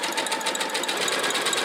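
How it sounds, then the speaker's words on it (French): A sewing machine stitches a zigzag seam along fabric edges in a fast, even mechanical chatter of close, loud needle strokes without any voices. "on a fait un point de zigzag sur les extrémités"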